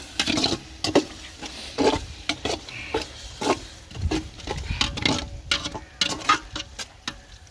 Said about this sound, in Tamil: நல்லா கலக்கிட்டாங்க.